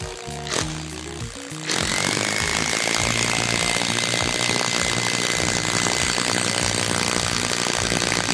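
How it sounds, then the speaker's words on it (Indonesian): An impact driver set to its highest speed drives a long 10 cm screw with a Phillips PH3 bit, starting with a few short bursts before settling into a loud, steady rattling hammering that runs on continuously. "Untuk kecepatan impact drivernya saya menggunakan yang high atau yang paling kencang."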